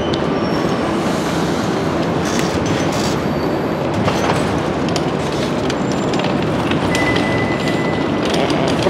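A steady, loud rumble of a moving train fills the whole stretch, with wheel clatter and occasional high metallic squeals on top.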